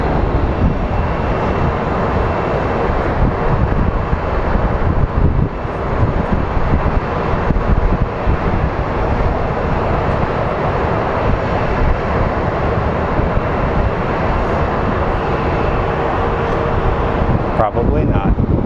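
Airliners at Phoenix Sky Harbor airport, including an American Airlines Airbus on its takeoff roll, give a steady, loud, continuous jet engine roar with rumble and wind buffeting throughout, with people talking over it.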